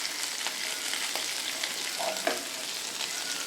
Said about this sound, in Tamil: இப்போ வந்து மல்லி சீரகம் கொஞ்சமாக ஃப்ளேவருக்காக போடுறேங்க போட்டு வதக்கலாம்